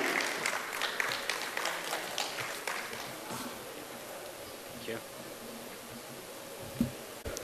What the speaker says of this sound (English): Let's have a huge round of applause and welcome him on stage.